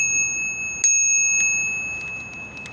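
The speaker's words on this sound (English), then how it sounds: "Did add my bell, as you can tell." Bell on a Lectric XP Trike electric trike, a bright ring that lingers as a sustained tone, with a few faint taps following.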